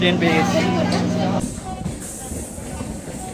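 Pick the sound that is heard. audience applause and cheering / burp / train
train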